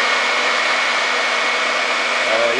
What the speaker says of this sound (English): I'm going to bring in my hairdryer